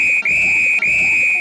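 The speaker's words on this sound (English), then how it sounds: "And that is the halftime whistle." A referee's halftime whistle at a soccer match sounds as one long, loud, steady tone held for about a second and a half, with two very short breaks in it.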